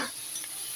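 Pork sautéing in a pan for sinigang, a short burst of steady sizzling and hiss close by with no speech.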